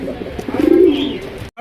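A pigeon coos once, a soft low throaty call swelling and fading, close by, with faint background noise.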